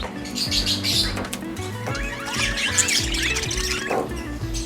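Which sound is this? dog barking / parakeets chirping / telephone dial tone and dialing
parakeets chirping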